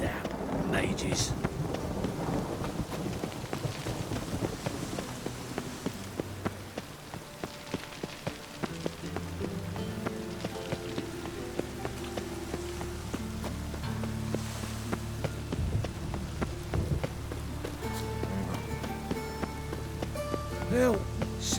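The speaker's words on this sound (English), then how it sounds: "A storm, damn it." A thunderstorm with rain in The Witcher 3, a steady patter of rain with low rumbling thunder at the start, overlaid by game music and voices.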